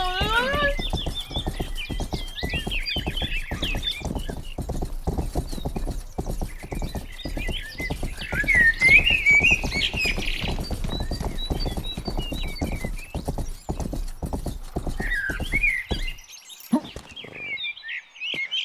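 Horse hooves clip-clop steadily and continuously in the Rustler video game, a dense rhythmic patter of steps with occasional whinny-like calls over game sounds, ending briefly in near silence.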